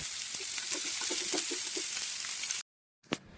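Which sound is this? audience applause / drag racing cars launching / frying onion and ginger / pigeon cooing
frying onion and ginger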